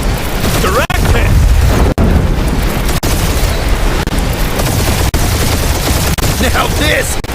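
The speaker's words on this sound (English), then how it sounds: "Got my best bombs primed and ready." Bombs explode in a chaotic space dogfight in Marvel's Guardians of the Galaxy game, a dense, loud barrage of booms and blasts with a sharp crack every second or so, overlaid with character voices.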